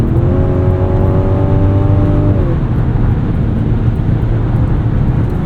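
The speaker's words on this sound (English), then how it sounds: "let's go back into sport mode here. Hit this entrance ramp with some vigor." A 2025 Mazda CX-70 3.3 Turbo S Premium Plus in sport mode accelerates hard up a highway entrance ramp, its engine note rising steadily through the gears as a loud, continuous drone with road noise beneath.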